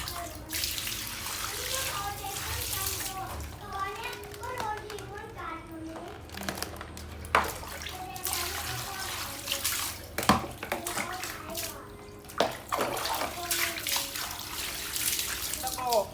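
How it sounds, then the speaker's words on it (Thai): Tap water runs steadily while shrimp and crab are washed in a sink, with soft splashing and handling sounds and someone talking over it. "ขอตัวไปล้างกุ้ง แล้วก็ขอตัวไปล้างปู"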